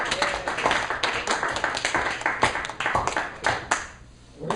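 An audience at a vacuum science demonstration claps in a lively burst of many hands, close and fairly loud, trailing off near the end.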